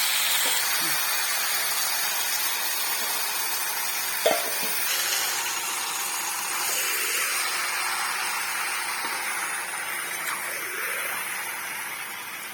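Marinated chicken with ginger, chilli, coriander, cumin and tomato purée fries in a hot kadai, a loud, unbroken broadband sizzle that holds steady, with a single faint clink partway through.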